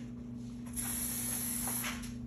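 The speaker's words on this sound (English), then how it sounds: "You don't have to spray the tape, spray the metal." A short hissing burst from a spray paint can painting a metal engine block, lasting over a second, heard close against a low steady hum, then fading.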